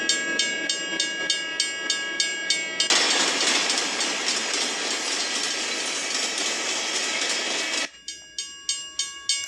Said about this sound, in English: I could hear the train getting loud.